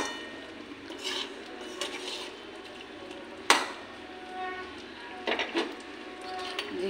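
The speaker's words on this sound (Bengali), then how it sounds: "এখন গরম মশলা দিয়ে দেব। গরম মশলাটা মিশিয়ে নিই।" Garam masala being stirred into a potato and soybean curry with tomato, giving soft scraping strokes of a spoon in a pan over a low background sizzle, with one sharp knock midway and a few quick scrapes near the end.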